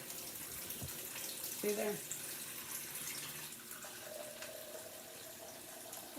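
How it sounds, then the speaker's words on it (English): Water runs faintly from a kitchen faucet fitted with a filter against hard water, a soft continuous trickle. A person speaks briefly over it. "When I use water, because we have hard water, I use a filter on that I have on the faucet."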